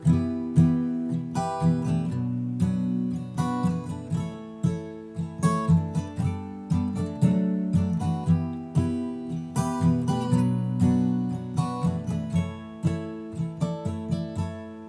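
Slow acoustic guitar strumming working through the chord progression of a song, each chord ringing out with a steady, unhurried rhythm and no voices.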